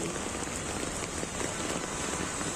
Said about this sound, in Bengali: দেখতে পাচ্ছ কি পরিমাণে বৃষ্টি হচ্ছে মুম্বাইতে